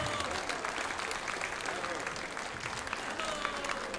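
A concert audience at a Silesian hit-song show applauds warmly, dense continuous clapping filling the room for the whole stretch without letting up.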